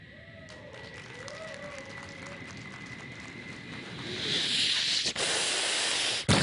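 A man imitates an airplane with his voice before an audience, a breathy hissing whoosh that swells louder toward the end and cuts off abruptly.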